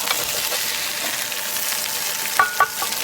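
Food sizzles steadily in a 12-inch LOLYKITCH tri-ply stainless steel frying pan where it is sticking to the surface, a constant hiss with a couple of brief louder pops near the end.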